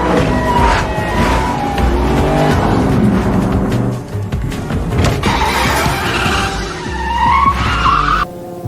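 Cars in a Fast & Furious 9 police chase, tires squealing and skidding under loud roaring engines in a dense, continuous rush of sound.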